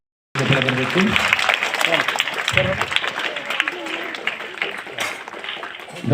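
Loud, dense applause from an audience at an event for government primary school children in Kalaburagi, run by the Novel Hope Foundation of Bengaluru. The clapping swells in after a brief silence and holds steady for several seconds.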